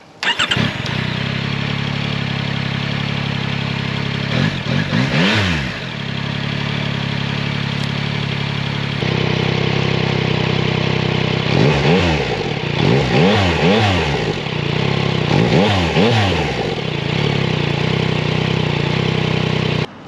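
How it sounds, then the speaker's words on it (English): A Yamaha Tracer 9 GT Plus motorcycle engine cranks and fires up close by, settling into a steady idle broken by several quick throttle blips, loud and alone with no talking. "It's now time for us to get the engine started"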